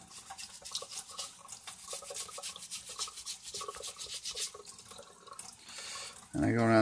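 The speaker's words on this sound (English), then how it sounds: "I'm using a nail brush. Seems to be about the best thing to use." A nail brush scrubs a brown layer off a birch polypore mushroom under running water, with steady rubbing strokes over a faucet's flow and a louder gush of water near the end.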